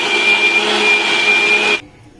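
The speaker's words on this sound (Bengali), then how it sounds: "আমটা আমি ব্লেন্ড করে নিয়েছি" A kitchen mixer grinder blends mango with sugar in one loud, steady high-pitched whir that stops abruptly after nearly two seconds.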